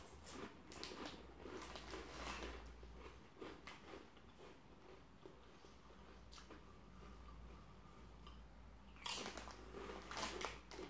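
Walkers pigs in blankets flavour crisps, smelling of smoky bacon, are bitten and chewed close up, giving steady dry crunching throughout with a louder burst of crunches near the end.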